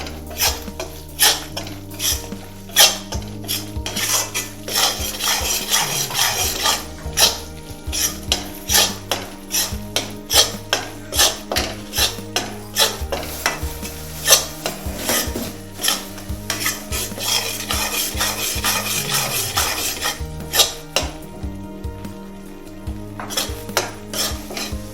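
Gram flour is stirred and roasted in a pan for besan laddoos, with a spoon scraping and clinking against the metal in a steady rhythmic pattern and a soft sizzle underneath, close and continuous.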